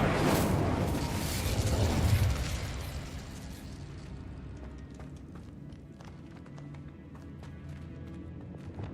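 The Incendio fire spell is cast in a Harry Potter video game: a loud whooshing, roaring burst that swells for about two seconds, then fades into crackling, sputtering flames.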